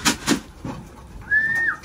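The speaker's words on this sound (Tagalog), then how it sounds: "Yan ganda lang ibon na yan, si Bon." Racing pigeons at a one-loft race training loft give a few short, soft coos close by, followed by a brief thin whistling tone.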